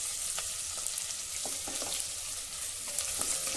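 Chopped onion sautés in oil inside a pressure cooker on a gas stove, a steady bright sizzle with a few soft stirring scrapes, close and uninterrupted, with no voices.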